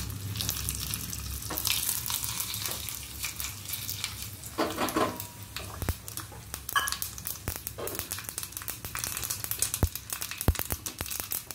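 A tempering of fenugreek, mustard seeds, dry red chillies and asafoetida sizzles in hot oil with crackling pops and sharp spitting bursts scattered over a continuous frying hiss, close and fairly quiet, with no talking.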